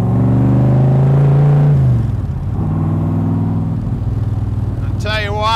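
A 1965 Shelby Cobra replica, a Backdraft build with a Roush motor, rumbles loudly on a test drive. The engine tone holds steady, then drops and settles into a lower throbbing idle with a brief whine near the end, and someone talks over it.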